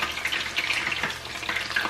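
Breaded chicken fillets fry in hot oil with a steady crackling sizzle and scattered sharp pops of splashing oil, close and alone without talk.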